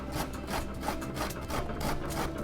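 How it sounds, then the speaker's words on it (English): Courgette and onion are rubbed down a grater in quick, even strokes, each one a close, scratchy rasp repeating at a steady rhythm. "We start by grating the vegetables"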